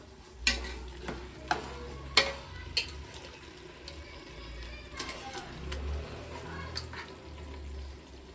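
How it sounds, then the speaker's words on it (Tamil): Chicken pieces cooking in a frying masala pan, giving a soft steady sizzle broken by several sharp clinks and scrapes of stirring, spaced a second or so apart, fairly close and quiet. "சரி வாங்க சிக்கன் போட்டுடலாம்"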